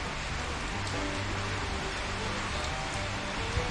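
Steady rain falling on a cold morning beside rice fields, a dense even hiss of drops on surfaces throughout, with no voices.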